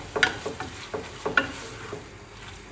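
Meat searing and browning in a pot as coconut milk waits to be added, a steady soft sizzle broken by several sharp clicks and scrapes of stirring, with no talking.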